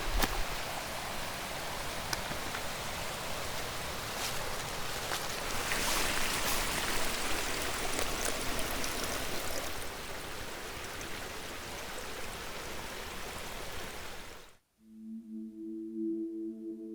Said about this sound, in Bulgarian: радвам се, че водата се е върнала отново там, където е мястото. Цяла година нямаше вода в реката